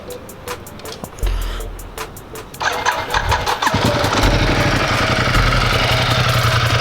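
A keyless-start motorcycle in neutral cranks and fires up, catching after a brief churn, then settles into a loud, steady idle close by, with a few clicks and handling sounds before the start.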